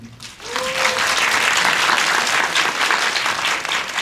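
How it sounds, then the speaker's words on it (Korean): Audience at a preview screening and stage greeting for the drama 'Summer Cold' applauds writer Cha In-ju: a dense, steady round of clapping that rises quickly after a brief thin whistle-like tone and holds loud throughout. "박수 한번"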